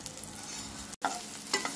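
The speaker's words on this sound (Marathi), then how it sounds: "हळद, मिरची आणि मीठ थोडं फ्राय करून घेऊया." Turmeric, chili and salt fry in a pan, a brief, soft close sizzle with stirring and a short break in the middle.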